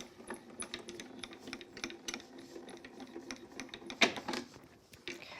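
Embossed cardstock is cranked through a die-cutting and embossing machine with a tan mat, producing close, quiet mechanical clicking and ratcheting in an irregular rhythm, with one sharper clack partway through and no voices.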